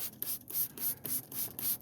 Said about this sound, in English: And we're going to give this a spray down. Just plain water.